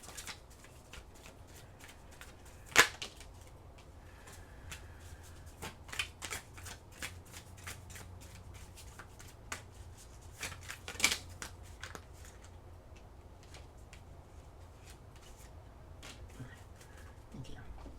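Tarot cards being shuffled during a reading, soft papery riffles and slides with occasional sharper snaps, close but quiet over a low background hum.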